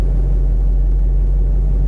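A manual-transmission car creeps forward as the clutch is eased out, giving a low, steady engine rumble heard close from inside the cabin, with no talking.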